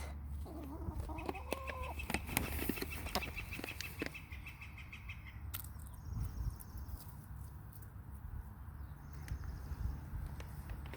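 Pastured chickens cluck and murmur close by while foraging on fresh feed, a steady stream of soft clucks and squawks with occasional louder calls, no voices.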